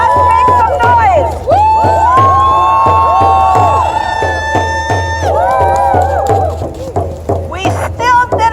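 Outdoors in Montreal, a rally crowd supporting the Wet'suwet'en Nation roars with sustained whoops, high cheering voices and steady rhythmic thumping, loud and close, tapering into scattered shouts at the end.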